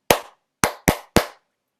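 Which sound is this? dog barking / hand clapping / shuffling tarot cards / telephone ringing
hand clapping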